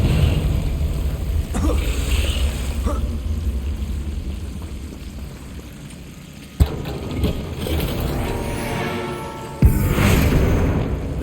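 An explosive Confringo spell blast from Hogwarts Legacy, with low rumbling booms and two sharp impacts over a droning game ambience, fairly loud and without speech.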